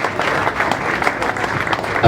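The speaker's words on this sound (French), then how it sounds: "Merci de les applaudir bien fort." Audience at a charity gala clapping warmly, a dense close burst of applause that swells slightly toward the end.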